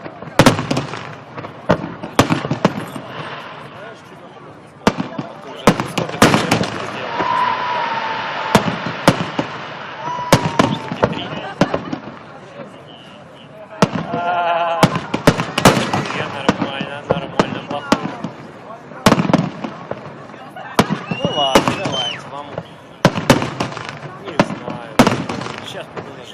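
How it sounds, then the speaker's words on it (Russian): Festive fireworks salute for Metallurgist Day in Nizhny Tagil, 2012: repeated loud bangs and crackling bursts go off irregularly throughout, with whistles and booming reports, while people talk nearby. "Салют начался, да?"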